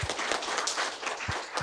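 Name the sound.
audience applause welcoming a speaker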